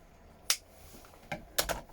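A few quick, sharp scissor snips close by cutting a pull cord knot, one single cut followed by a pair of crisp clicks, with faint background noise.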